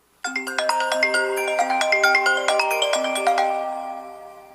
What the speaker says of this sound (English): the iPhone 10 also gets an exclusive default ringtone called Reflection